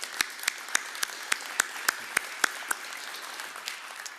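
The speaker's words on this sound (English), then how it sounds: "So let's give them a round of applause as well." A small audience gives trainees a round of applause, mostly a few distinct claps in a steady, evenly spaced rhythm, moderately distant and fairly quiet, thinning out toward the end.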